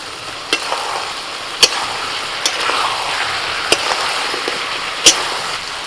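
Cumin and black pepper paste sizzling in hot oil in a pan, close and steady, with several sharp scraping clacks of a spoon stirring at irregular intervals.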